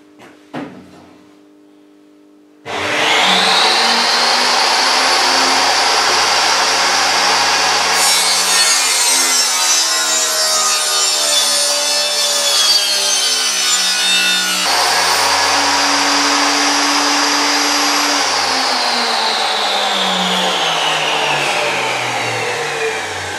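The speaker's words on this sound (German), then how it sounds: "Die Säge wurde auf 45 Grad eingestellt." A power saw set to a 45-degree angle runs loud and steady through wooden boards for about twenty seconds, its whine shifting pitch partway through as it bites through the boards.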